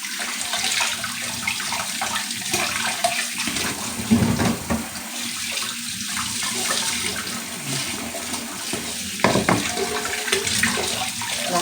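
Tap water runs steadily and splashes as meat is washed in a kitchen sink, with louder bursts of splashing around the middle and near the end.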